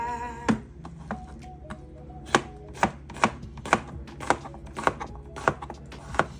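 A knife chops vegetables on a board for homemade pizza: sharp, close strikes, sparse and uneven at first, then a quicker, fairly regular run of chops.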